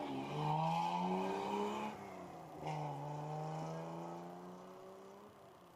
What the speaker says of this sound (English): So you hear the cars accelerating away.